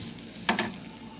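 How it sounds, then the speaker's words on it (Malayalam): Two quick scraping strokes of stirring coconut roasting in a pan over a faint, low sizzle on low heat, quiet and close. "ഇനി നമുക്ക് നന്നായിട്ട് തീ കുറച്ച് വെച്ച് ഇത് നല്ല ബ്രൗൺ നിറമാവുന്നത് വരെ വറുത്തെടുക്കാം."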